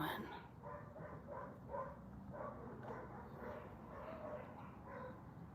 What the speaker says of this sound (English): Did that dog have a really low bark?